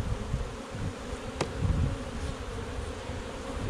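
Honey bees hum steadily inside a hive, a dense close buzz that holds level throughout with a few individual insects flaring louder as they pass near.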